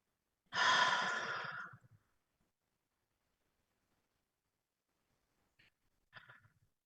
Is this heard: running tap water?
no